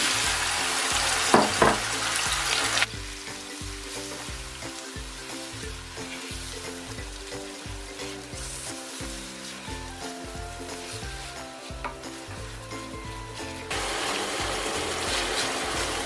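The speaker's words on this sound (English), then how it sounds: "So the first thing to go in is my roughly blended onion." Steady sizzling of roughly blended onion frying in a pan for a Nigerian ayamase stew, loud at the start and end with quieter bubbling in between, no voices.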